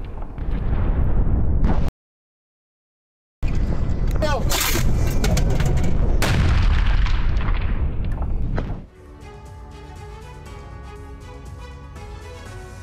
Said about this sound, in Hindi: रोबोटाइन में रूसी सेना ने मोर्टार हमला किया है। हाई एक्सप्लोसिव शेल से रूस की गोलाबारी देखने को मिली।